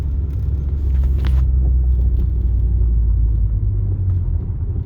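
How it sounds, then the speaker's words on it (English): A 2012 Mitsubishi Lancer SE AWD with a CVT and paddle shifters accelerates with more throttle. A loud, steady low engine and road rumble is heard from inside the car, with no talk. "I'll give a little more gas this time too."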